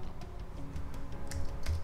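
Keystrokes on a computer keyboard while an Excel formula is entered, a quick, uneven run of light clicks close by, with a faint hum underneath.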